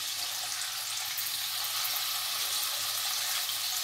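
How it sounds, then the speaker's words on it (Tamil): Pieces of fish shallow-frying in oil in a pan over a medium flame for a Tamil-style fish fry, giving a steady, dense sizzling hiss that holds evenly for the whole stretch, close and uninterrupted. "இப்போ மீனை வந்து ஒரு பீஸாக போட்டு நம்ம வறுத்து எடுத்துடலாம்"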